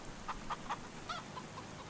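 Backyard chickens clucking softly on a wet day, a few short clucks in quick succession followed by quieter ones, faint and close.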